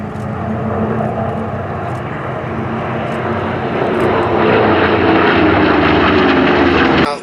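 Loud, continuous droning of vintage warbird propeller aircraft engines passing close by in formation at Sywell Airshow 2024, the roar swelling slightly toward the end.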